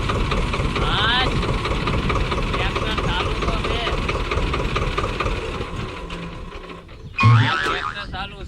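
An old, hard-starting tractor engine idles steadily nearby with a constant low rumble, and a short louder clatter comes near the end.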